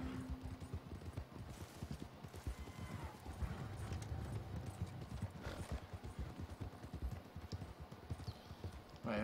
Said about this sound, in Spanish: creo que sus caballos son más rápidos que los míos